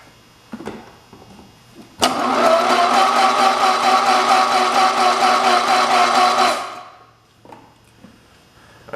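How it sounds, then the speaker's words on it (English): The engine of a 1967 112 round fender, grounded straight to the starter, cranks over loudly and steadily for about four and a half seconds in a fast, even, chugging rhythm. It stops abruptly, with faint clicks before and after. "I'd say it cranks over pretty good."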